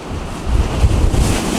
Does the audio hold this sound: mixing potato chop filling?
no